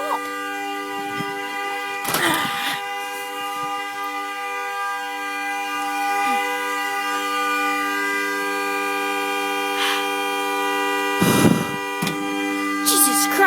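A stuck car horn blares without a break at 2:30 at night, a steady, loud, even tone that never lets up, with a few short bursts of other noise over it.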